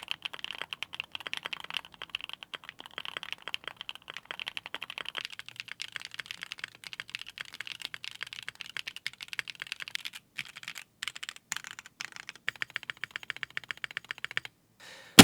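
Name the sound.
typing on Luminkey 80 keyboard with Gateron Sylva switches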